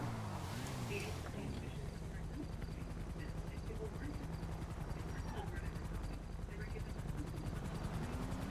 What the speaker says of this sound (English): A helicopter has been dispatched.